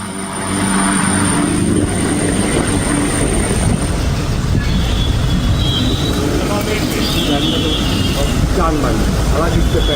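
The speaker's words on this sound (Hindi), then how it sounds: "काशी के दौरे पर थे योगी आदित्यनाथ जब उनका हेलीकॉप्टर लैंड हुआ।" Helicopter landing in Varanasi during an official visit by Uttar Pradesh Chief Minister Yogi Adityanath, a loud steady rotor and engine roar sustained throughout, close by, with crowd voices mixed underneath.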